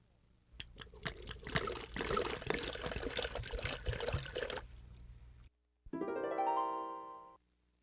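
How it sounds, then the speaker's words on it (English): Water pours and splashes in a cartoon scene with a broom emptying buckets, a bubbly, gurgling stream for several seconds, then a short break and a rising pour into a filling container. "The broom did just what Mickey said. It poured the water."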